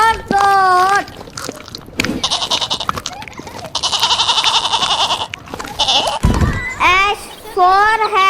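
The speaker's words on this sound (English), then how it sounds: "G for goat." A goat bleats in loud, quavering cries, heard alongside a children's rhyme track with a spoken voice and rustling noise between the calls.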